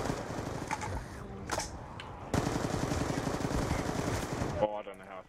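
Automatic AK rifle fire in Call of Duty Zombies, bursts of rapid shots running steadily through the clip and growing denser partway in, with game noise underneath and no clear talk.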